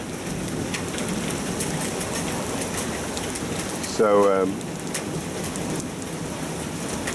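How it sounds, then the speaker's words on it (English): Hail and heavy rain pelt down steadily during a thunderstorm in Oklahoma City, a constant dense hiss throughout, with someone speaking briefly midway. "Starting to get some hail."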